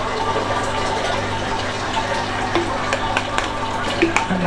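Liquid trickling and dripping back into a bowl during rum making, a soft continuous splashing close by with small irregular drips, and a voice briefly heard.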